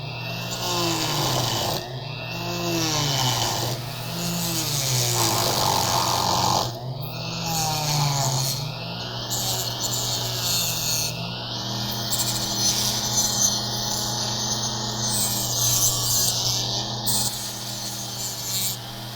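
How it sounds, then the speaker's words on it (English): A saw blade cuts through a Fuji KDPS reel seat hood, producing a close, continuous rasping drone whose pitch sweeps in repeated arcs early on, then settles into steadier grinding. "you got to climb the blade up onto that thread."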